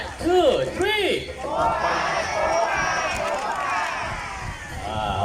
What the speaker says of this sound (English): Shout as loud as you can. Popeye, Popeye, Popeye. 3 times, okay?